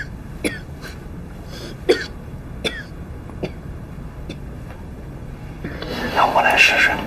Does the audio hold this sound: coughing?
yes